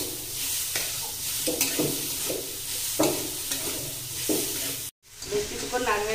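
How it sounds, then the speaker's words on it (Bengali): Grated coconut and sugar are stirred in a pan with a spatula, giving a soft repeated scraping rhythm over a steady sizzle and hiss, with a brief clatter near the end. "বেশ কিছুক্ষণ নারকেলটা আমি নেড়ে নিয়েছি"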